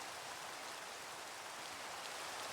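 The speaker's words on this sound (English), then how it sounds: "rain. Just go away." Steady rain falls in the video game Minecraft, a continuous even hiss of drops with no breaks, moderately loud and heard alone.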